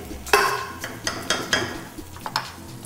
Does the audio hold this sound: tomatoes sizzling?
yes